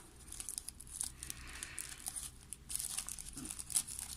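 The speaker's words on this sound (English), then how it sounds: "So just folding it to the edge, unfolding and opening here" Paper crinkles and rustles softly as it is creased and folded for an origami Spinosaurus, close and quiet, with brief crisp crackles.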